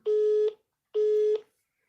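Telephone tones from the mystery video game Duskwood: two loud, steady electronic beeps, each about half a second long with a short gap between them, heard alone.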